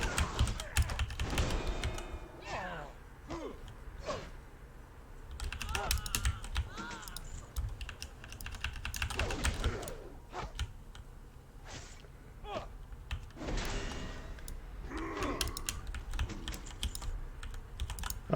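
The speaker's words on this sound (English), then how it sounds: "my keyboard's kind of loud, so apologies if you don't like the clicking noise" Rapid, loud clicking of a computer keyboard during a World of Warcraft session, keys hammered in dense bursts and flurries with brief lulls, continuing throughout with occasional faint voice underneath.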